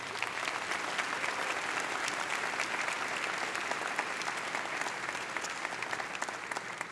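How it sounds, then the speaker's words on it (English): High school graduation audience applauding deans and the athletic director, a dense, sustained wash of clapping from a large crowd in a big hall, even in level throughout with no voices on top. "Round of applause,"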